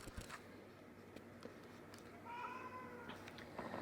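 A cat meows a few times, with harmonic calls rising from a quiet room background, including a longer drawn-out meow midway.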